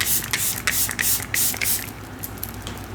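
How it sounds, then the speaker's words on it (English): Face mist sprayed onto a face in a series of short, close hissing bursts with brief gaps between them, fading toward the end, with no talking over it. "gonna spray my face again."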